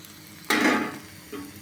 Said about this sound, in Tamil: கொஞ்சம் எண்ணெய் மேலே ஊற்றுறோம்.